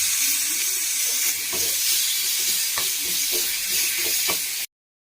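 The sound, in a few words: tomatoes being added and fried in a pan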